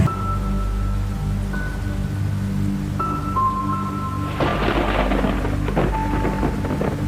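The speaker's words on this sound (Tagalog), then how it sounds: "dahil sa patuloy na pagbuhos ng malakas na ulan" Heavy rain pours steadily during a typhoon that brought flooding, a dense continuous wash that swells louder partway through, with a low rumble and faint tonal hum underneath and no talking.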